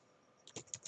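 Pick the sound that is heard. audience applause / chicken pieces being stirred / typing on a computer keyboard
typing on a computer keyboard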